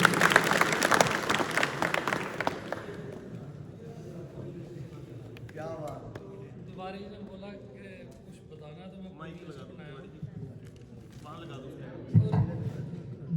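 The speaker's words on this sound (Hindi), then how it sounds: "धन्यवाद इनके लिए और ताली बजनी चाहिए" Audience applause at an annual meeting, a burst of dense clapping that fades after a few seconds, followed by someone speaking and a brief clap or thump near the end.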